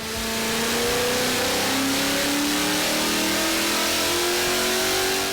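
A Ford car engine fitted with a cold air kit revs steadily upward under load on a dyno, its pitch climbing smoothly over several seconds at a constant loud level.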